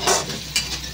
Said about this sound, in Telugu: ఒక ఉల్లిపాయ, 4 పచ్చిమిరపకాయలు అయితే ఫ్రై చేసుకోవాలి.